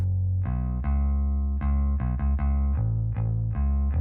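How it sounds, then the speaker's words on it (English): A deep, clean electric bass line without distortion plays alone, a run of sustained notes with steady, smooth tone and no grit. "This is how bass sounds without it."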